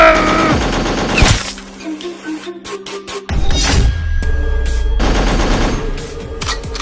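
Rapid bursts of gunfire crack out repeatedly, loud and close, with a sharp break midway and another dense volley after it.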